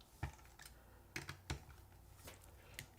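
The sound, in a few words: typing on custom mechanical keyboard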